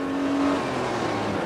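Engine of a Mitsubishi Pajero II SUV on road tyres while driving at speed, a steady loud drone with a low hum throughout and no talk over it.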